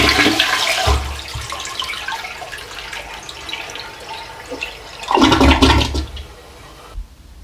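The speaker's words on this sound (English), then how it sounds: "when you're done using the toilet, you need to flush" A household toilet flushes in a bathroom, a loud rushing gush at the start, then a quieter swirl of draining water, a second surge of flow mid-way, and the tank refilling before falling abruptly silent.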